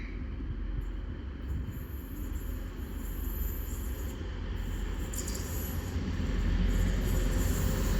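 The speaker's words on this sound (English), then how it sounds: "we are expected to have a Transpennine Express Class 185 arriving now for Wakefield Kirkgate from Manchester Piccadilly" Transpennine Express Class 185 diesel unit pulling into Stalybridge station: a loud, steady rumble of engine and wheels on rails, swelling slightly as it nears, with faint high wheel squeal, and no voices.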